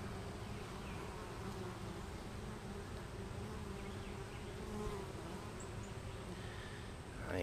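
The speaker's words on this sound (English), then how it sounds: "every now and then a bee will fly up there," Honeybees fly around the entrance of a once-abandoned hive, giving off a continuous, faint buzzing hum from a dense swarm, steady for the whole clip with no voices.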